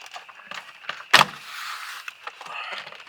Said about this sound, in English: So now I'm going to grab from this corner and start popping it off.